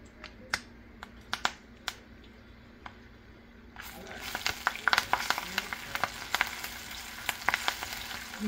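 Chillies and curry leaves for a drumstick leaf dal drop into hot oil, first as sharp scattered pops and crackles, then a busier continuous sizzle with spattering bursts, close and moderately loud.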